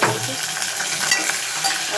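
Green chillies and onions sizzle in hot oil as they are stirred in a pot, a steady, close crackle of frying with occasional scrapes and no voices.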